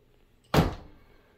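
A bathroom door with storage built on its back is swung shut, giving one short solid thunk with a quick fading tail, close and isolated in a quiet room.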